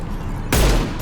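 A short burst of gunfire in the video game Mass Effect 2 breaks in midway as a loud, heavy blast over quieter background game sound.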